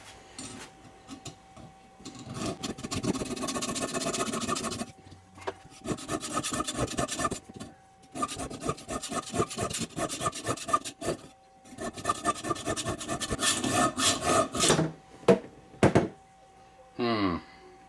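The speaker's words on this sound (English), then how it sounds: "As you can see by my dollar store hacksaw, I insist on using only top quality tools." A cheap dollar-store hacksaw cuts with rhythmic rasping strokes, close and fairly loud, in several bursts separated by short pauses.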